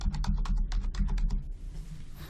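Rapid clicking of computer keyboard keys as a password is typed, a steady run of close, crisp keystrokes over a low background hum, ending in a quieter stretch.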